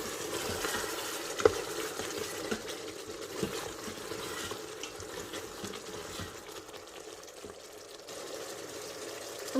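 Green chilies split in half being stirred into a lamb curry in an Instant Pot Duo 7-in-1 pressure cooker, with a steady soft scraping and gentle sizzle and a few sharper clinks against the pot.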